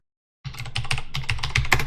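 A computer keyboard typed on steadily while entering a shutdown command to restart a Windows 7 server, a quick run of close, crisp key clicks starting after a short silence.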